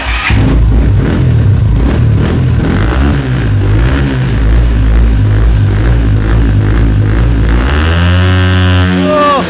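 A 2025 Rusi XL V7 motorcycle engine revving up loudly and close, a continuous throaty roar that rises in pitch toward the end.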